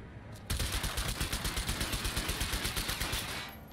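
Rapid automatic gunfire from the video game Cyberpunk 2077, a loud sustained burst of evenly spaced shots lasting about three seconds, fading slightly at the end with no talk over it.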